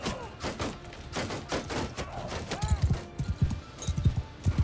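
Horse hooves in the video game Mount & Blade II Bannerlord, a rapid clip-clop of many galloping mounts that grows heavier and thumpier, mixed with scattered battle noise.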